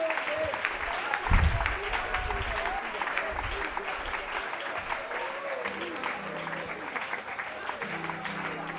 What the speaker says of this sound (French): On va acclamer le Seigneur.